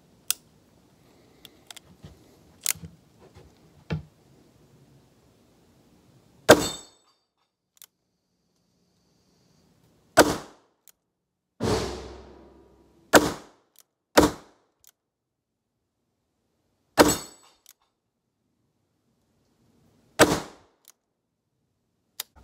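Uberti Cattleman II revolver firing .38 Special rounds outdoors, about seven sharp, loud shots spaced a few seconds apart, with quiet handling clicks early on.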